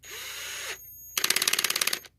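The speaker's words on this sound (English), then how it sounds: "you're drilling something or screwing something in, then the clutch starts slipping" A Ryobi One+ cordless drill whirs steadily, cuts off, then its slipping clutch ratchets in a fast, even series of loud clicks for about a second, close up with no talking.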